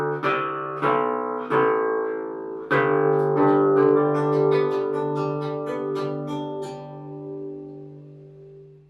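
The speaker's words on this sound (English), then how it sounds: "Some of these lower strings sound like this." Low bass strings of a large 14-string theorbo plucked one by one, each note ringing and decaying, followed by a run of quicker plucked notes, close and resonant with no talk.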